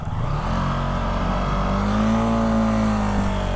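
A supermoto motorcycle engine revs steadily up and holds high, a loud continuous drone with rising pitch, close by.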